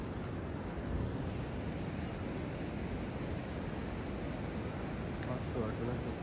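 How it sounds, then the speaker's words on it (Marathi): Sea waves wash onto a beach on a morning shore, a steady broadband roar of surf blending with wind noise, continuous and even throughout, with no talk. "या साईडला आपलं समुद्र."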